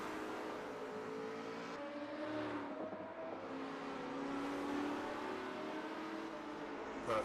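Group C race car at an SRA 2025 championship round, engine accelerating and easing through corners, a sustained fairly loud drone with pitch sweeps and slight passing changes.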